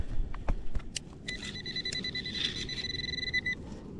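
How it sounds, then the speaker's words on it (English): A metal detector, an XP Deus 2, gives a rapid, continuous high-pitched beeping for about two seconds on a beach, after a few clicks and knocks. "Sorry about the beeping."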